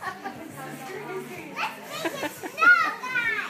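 Children playing and chattering in a children's activity area, with overlapping young voices and an adult talking, close and lively with bursts of laughter-like excitement.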